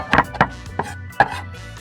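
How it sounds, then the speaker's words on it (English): A knife chopping fresh cilantro on a cutting board, four crisp knocks in an uneven rhythm, close and clear with no talking. "And you keep chopping the cilantro this way."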